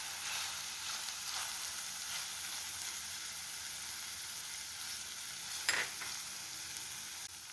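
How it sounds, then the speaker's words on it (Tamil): Paneer frying in masala in a pan, with a steady, soft sizzle running throughout and a brief clink of a utensil near the end. No one speaks. "இந்த டைமில் நம்ம ஃப்ரை பண்ணி எடுத்த பன்னீரை அப்படியே சேர்த்திடலாம்."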